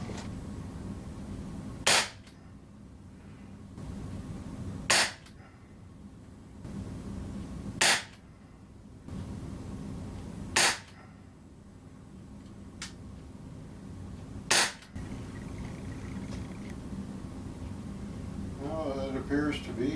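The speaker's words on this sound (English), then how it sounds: "I'm now gonna take 5 shots at the target, shooting from the shoulder with the carbine stock" An Umarex Morph 3X CO2-powered BB pistol with carbine stock fires five sharp, evenly spaced shots at a target, each a loud close crack about three seconds apart over steady background hum.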